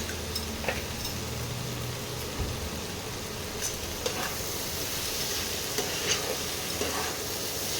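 Kashmiri chili powder spice mix being stirred in a hot pan, a steady low sizzle with occasional soft scrapes and taps of the spoon, close and alone.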